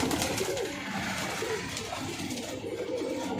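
High-flying pigeons cooing inside a loft, soft repeated low coos set against a busy, noisy background for a few seconds.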